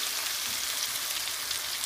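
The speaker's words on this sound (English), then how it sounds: "So I'm going to be sauteing my onion" Onion sautéing in a pan for gormeh sabzi, a steady close hiss of sizzling frying with no talk.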